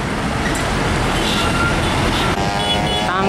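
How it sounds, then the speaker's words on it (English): A Hino tanker trailer truck passing on a road, a loud steady roar of engine and tyres amid traffic noise, with a brief higher tone near the end. "Tangki trailer Hino"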